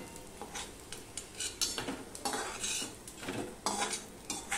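Fried ash gourd pieces being lifted out of a pan of oil, with scattered metal utensil scrapes and clinks over a faint sizzle, fairly quiet and close.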